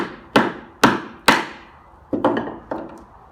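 A chisel struck with a mallet to split straight-grained wood into wedges: five sharp, close knocks at an even rhythm, each ringing briefly then decaying, the last two slightly softer and duller as the piece splits along the grain.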